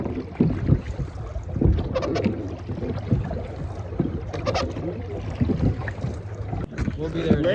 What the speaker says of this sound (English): I am rowing the cargo boat here with all of our gear and supplies in it.